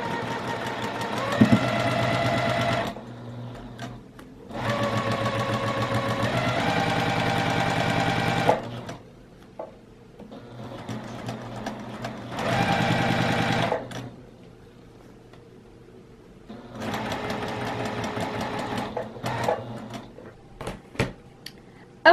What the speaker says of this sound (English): here we are at our sewing machine, and we're just going to sew regular straight stitch